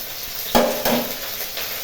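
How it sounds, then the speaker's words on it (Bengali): Ginger paste sizzles in hot oil in a frying pan with a steady crackling hiss, while a spoon clatters and scrapes twice as it stirs the paste. "এর মধ্যে 1 চামচ আদা বাটা দেবো।"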